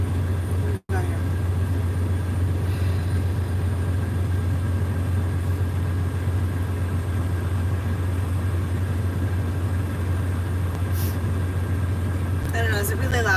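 Truck traffic outside: a constant, heavy low engine rumble and road drone that fills the whole stretch, steady and loud with no breaks, with a brief dropout near the start and faint rattling toward the end.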